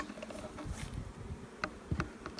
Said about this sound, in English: the bees have moved up into these frames